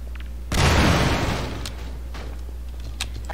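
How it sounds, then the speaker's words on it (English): A grenade explodes in the video game Half-Life 2, a single loud close boom with a deep rumbling tail that fades over about a second, followed by faint scattered clicks and debris sounds. "Chuck a grenade in there"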